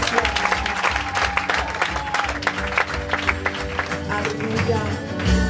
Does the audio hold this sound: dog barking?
no